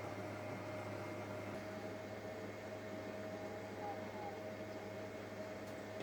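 A thrift store air conditioner runs with a steady, unbroken hum and airy whoosh, filling the room at constant moderate loudness with no pauses.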